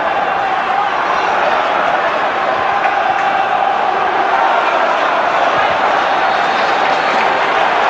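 A football crowd roars at West Ham United v Manchester United in a 2001-02 Premier League match, a steady, distant stadium swell of cheering and noise sustained throughout, with commentary voices over it.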